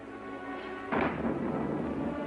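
A sudden broadband crash of thunder in stormy weather bursts in about a second in, then rolls on as a sustained rumble over a steady low hum, with no one talking.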